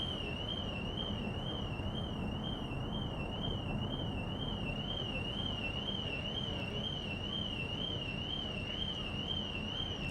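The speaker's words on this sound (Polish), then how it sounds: "gdzieś się alarm włączył, bo się auto buja" A car alarm wails steadily with a warbling, oscillating tone over the constant low rumble and hum of a ferry's engines as the vehicle rocks aboard; no one speaks.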